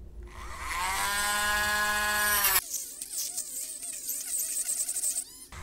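Hand drill with a larger bit enlarging a hole in a model railroad panel, a loud steady whine that stops abruptly midway, followed by a wavering, uneven motor whir and scraping before a brief final burst.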